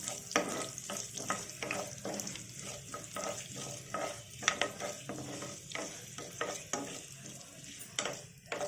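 Mustard seeds and spices with asafoetida crackle and sizzle in hot oil for a citron pickle tempering, with steady frying hiss and repeated stirring scrapes throughout, close and moderately loud.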